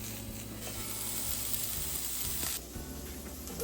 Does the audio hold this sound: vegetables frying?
yes